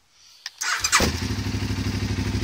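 A motorcycle engine cranks with a thud, fires up loudly from cold, then settles into a steady, throbbing idle close by.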